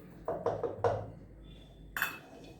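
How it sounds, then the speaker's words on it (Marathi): Melted ghee and powdered sugar being mixed in a bowl, several quick clinks and scrapes of a utensil against the dish, close and moderately loud, then a brighter clink near the end with no talk. "आता हे सगळं मी मिक्स करून घेते।"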